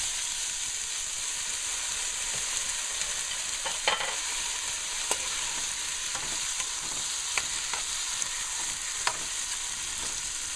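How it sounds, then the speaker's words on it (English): Tomato fries steadily in a pan for a fish stew sauce, a continuous close sizzle and hiss with occasional spoon stirs and small pops, and no talking. "So I'll let this fry and come down."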